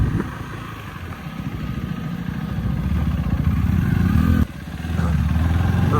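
A fully loaded motorcycle idles nearby with a steady mid-pitched engine rumble and some clatter. The sound dips briefly, then returns, and no one talks.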